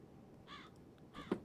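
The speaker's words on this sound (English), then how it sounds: "I hear the birds" Two short crow caws in the video game Dead Secret, a little apart, sounding from a moderate distance over a low, steady background hum.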